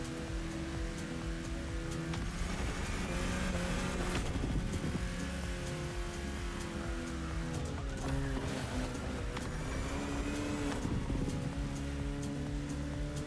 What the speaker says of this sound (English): In a Volkswagen bus.